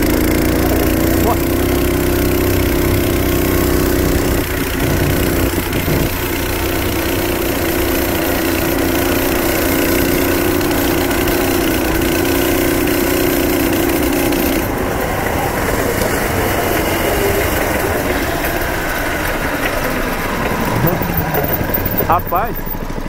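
A bicycle fitted with a stationary engine idles with a steady, loud drone, then revs up and changes pitch as it accelerates, with someone talking over the engine throughout.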